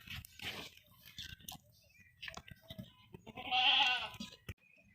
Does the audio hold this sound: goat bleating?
yes